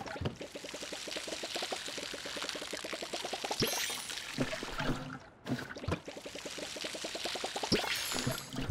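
Water pouring from a watering can onto crops in the farming game Palia, a gurgling stream with rapid rhythmic glugs in two separate pours broken by a brief pause, faint and steady with no talk.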